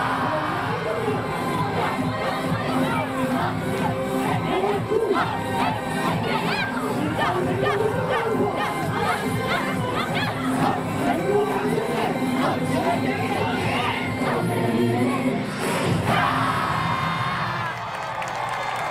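Crowd at a yosakoi dance performance in front of Tsu Station at the Anotsu Yosakoi festival, cheering, shouting and chattering loudly for the whole stretch, with voices mixed in and a brief dip near the end.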